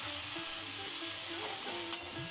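Small potato pieces go into a hot oiled pan for an aloo methi dish and fry with a steady, close sizzle and crackle, with a faint clink of a utensil near the end and no voices.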